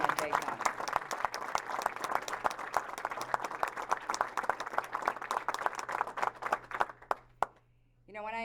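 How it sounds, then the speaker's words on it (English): An audience at a county executive re-election announcement gives a campaign team a sustained round of applause. Dense clapping fades out near the end, and a voice resumes speaking afterward. "So if you would please give my team a round of applause for everything that they've done"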